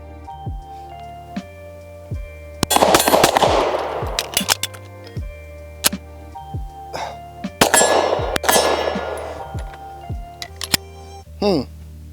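Canik Rival pistol fired on a range, two close bursts of sharp, loud gunshots with ringing decay and clanks, separated by quieter handling noise and talk in between.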